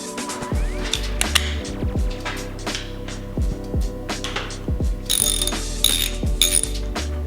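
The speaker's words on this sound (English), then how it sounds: "we need to also use a 12 millimeter socket, but we're gonna use a longer one just because this rod is sticking out a little bit" A ratchet turns a long 12 mm socket on a 2021 Marzocchi Bomber Z2 fork, giving loud, close, rapid clicking bursts in repeated strokes with brief pauses between them.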